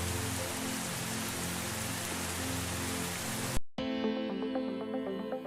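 Heavy rain falls steadily in a flood-hit area, a dense hiss of drops on surfaces that cuts off abruptly partway, followed by a quieter tonal background.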